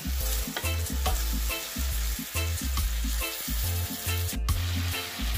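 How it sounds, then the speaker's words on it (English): Seafood being stirred in a hot pan for a pasta alfredo, with a steady loud sizzle throughout and repeated rhythmic scraping of the utensil against the pan, no voices. "we're going to continue to stir that for about a minute"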